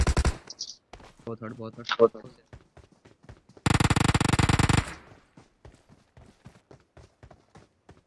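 Gunfire in the mobile battle royale game BGMI, sharp rapid shots with one loud sustained automatic burst mid-clip, scattered single cracks after, with excited voices talking over it.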